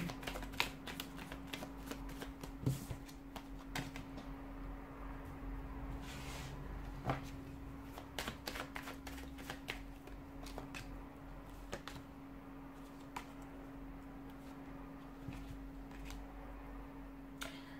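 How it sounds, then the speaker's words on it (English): Tarot cards shuffled by hand in a steady run of crisp riffling clicks and soft slaps, close and fairly quiet over a constant low background hum, with no talking. "give the cards a shuffle"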